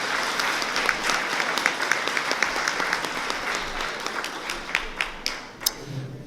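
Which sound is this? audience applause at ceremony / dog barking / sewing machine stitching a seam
audience applause at ceremony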